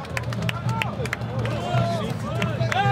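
Crowd at a Paris solidarity march against the Darmanin law in December 2023, scattered clapping bursts and cheers mingling with shouting voices and babble, lively and close.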